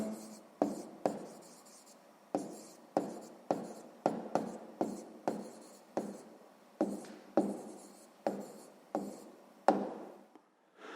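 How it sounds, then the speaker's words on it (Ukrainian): A pen scratches out an answer by hand on paper, a quiet, close series of short strokes and taps in an uneven rhythm, about a dozen and a half marks with no talking. "зараз записуємо відповідь"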